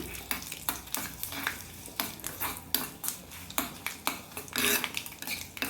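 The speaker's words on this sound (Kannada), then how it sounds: "ಇದು ಚೆನ್ನಾಗಿ ಫ್ರೈ ಮಾಡ್ಕೊಳ್ಳೋಣ" Dry red chillies and leafy greens frying in a pan, with a steady sizzle and repeated scraping stirs of a spoon against the pan, close and alone.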